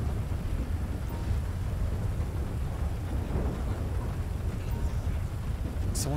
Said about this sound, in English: That storm is really coming down.